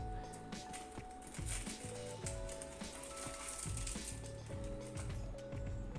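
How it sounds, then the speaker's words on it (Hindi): Maggi noodles boil in a pot, giving a soft, steady bubbling and sizzling wash with irregular pops and faint clinks. The sound is close but fairly quiet, and nobody speaks. "तो मैं पहले मैगी बॉईल कर रही हूँ"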